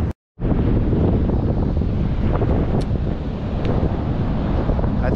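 Beach wind blasts across the microphone in a loud, continuous low rumble after a brief silent gap at the start, with faint surf wash underneath and no speech.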